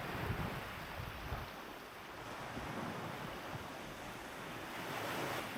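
Ocean surf at high tide on Kai Bae beach, a continuous soft wash of breaking waves with wind rumbling on the microphone, fairly faint and with no voices.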